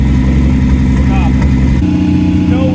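A car engine fitted with an Aces Killshot Classic fuel setup runs loudly and roughly, unable to settle into an idle, a constant close drone with a voice briefly over it.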